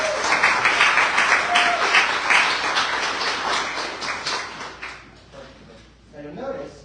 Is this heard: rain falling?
no